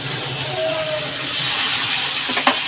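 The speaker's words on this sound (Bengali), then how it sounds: "আর এটা বাটারেই ফ্রাই করবেন" Chicken pieces frying in butter in a pan at home, a steady close hiss and sizzle throughout with a small crackle near the end, a voice faintly beneath.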